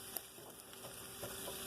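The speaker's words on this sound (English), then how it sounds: "So what I do, I spread the onions real good. And you just keep moving them" Onions frying in a pan while being spread and kept moving, a soft, steady sizzle with faint pattering and a few light scrapes, quiet and close.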